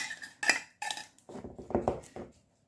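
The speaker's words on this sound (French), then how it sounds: "je vais mettre la boîte de thon directement dedans" Canned tuna in its juice tipped from the tin into a dish for a tortilla pizza: a couple of clinking metal knocks against the dish, then a short soft, wet slide and scrape, close and fairly quiet.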